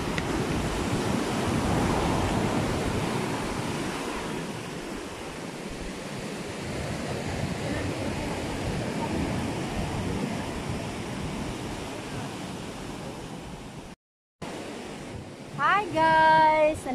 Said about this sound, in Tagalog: Nanonood kami ng alon.